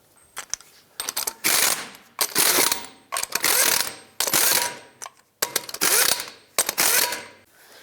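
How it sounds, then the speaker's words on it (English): A ratcheting wrench spins lug nuts onto a 2003-2009 Toyota 4Runner wheel, six loud bursts of rapid clicking separated by short pauses, close and alone. "Start on all 6 of your lug nuts, bottom them out, and then torque them to 83 foot-pounds."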